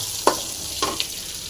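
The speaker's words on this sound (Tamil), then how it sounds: "கருவேப்பிலை போட்டாச்சு மிளகாய் போட்டுடலாம் நல்லா ஃப்ரை பண்ணிங்க" Curry leaves and chili crackle in oil for green peas sundal: a brief steady hiss with two or three sharp stirring taps, close and alone.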